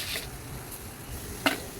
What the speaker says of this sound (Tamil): இந்த குழம்பு வந்து நல்லா கொதிக்குது